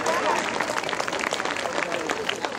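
A crowd applauds to welcome a guest, a dense burst of many hands clapping at a steady, fairly loud level, with some voices mixed in beneath the clapping.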